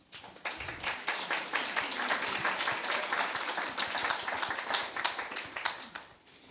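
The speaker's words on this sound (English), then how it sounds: "let's give both of them a big round of applause" An audience at a community meeting claps steadily for several seconds, a dense patter of many hands that swells quickly and then tapers slightly at the end.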